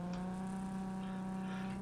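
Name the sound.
car noises in video game Cyberpunk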